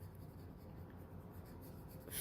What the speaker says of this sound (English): fill this in with colored pencil.